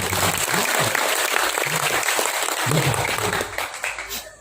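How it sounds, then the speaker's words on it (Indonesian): Audience applause fills a religious lecture hall during a pengajian gathering, a dense steady clapping from a large crowd lasting several seconds before thinning out at the end. "Beri tepuk tangan buat itu."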